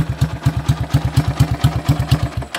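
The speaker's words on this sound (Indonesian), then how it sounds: "Suara mesinnya mirip motor klasik." A classic-style motorcycle built from a Honda Tiger runs close by, its engine chugging in a steady, even low thump with no voices over it.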